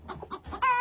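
A broody hen clucks in a series of short, close calls before a sudden louder, sustained squawk at the end, no talk.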